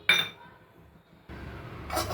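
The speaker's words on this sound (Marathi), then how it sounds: "मग काय आता शेगदाणे टाकू कढईमध्ये" A quick metallic clink, then a steady dry rattling hiss as peanuts are poured into a hot wok close by for sesame jaggery laddoos.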